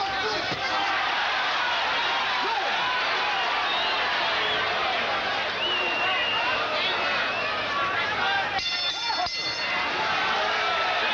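The arena crowd at a boxing match between Hector Camacho and Cornelius Boza Edwards keeps up a steady, loud roar and murmur throughout, with a commentator talking over it.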